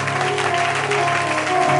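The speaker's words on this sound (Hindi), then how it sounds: "स्पिरिट यीशु के नाम में ताली बजाओ।" A congregation in a church claps hands together in a dense, continuous wash of applause, loud and sustained, with faint voices and musical tones underneath.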